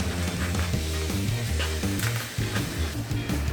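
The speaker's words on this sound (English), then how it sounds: "we are gonna now cook up this hamburger. Put that right in here." Ground beef frying in olive oil in a hot pan, a dense, steady sizzle running throughout at close range under a low background hum, with no speech.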